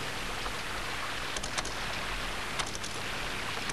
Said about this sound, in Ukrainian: О, тече. Як дощ.